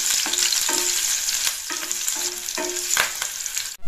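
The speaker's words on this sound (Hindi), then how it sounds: "4 हरी मिर्च, जिसको हम बीच से चीरा लगा दिए हैं, ताकि इसका फ्लेवर अच्छे से आ सके। इन सभी चीजों को खुशबू आने तक भून लेंगे।" Garlic and four slit green chilies fry in hot oil in a pan, a steady close sizzle with repeated soft clinks and scrapes of a spoon stirring through it; no voices.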